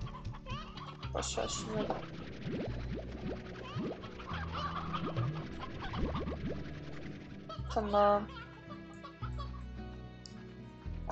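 Chickens cluck in the video game Slime Rancher, mixed under steady game music and a voice talking.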